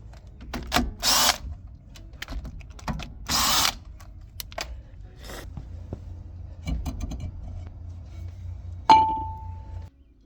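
A power tool removes the two 12mm pins from the rear brakes of a 2003-2012 Fiat Panda, with several short, sharp whirring bursts separated by pauses, a metallic clank near the end, and quiet workshop background.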